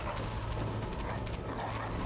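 Packs of beastly dogs barking in Bloodborne, a steady dense growl-and-bark texture over low rumbling game ambience, loud and continuous with no talk.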